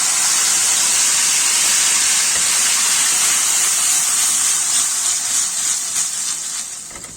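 Garlic and tomato juice sizzle loudly and steadily in a frying pan for a wet hamburger sauce, a dense continuous hiss that fades slightly at the end.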